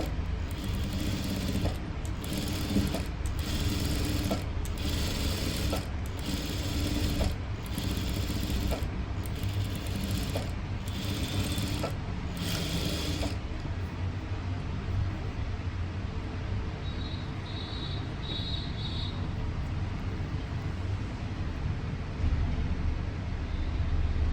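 A sewing machine with a normal presser foot stitches thread piping, a steady close motor drone with evenly spaced pulses that then smooths into continuous running.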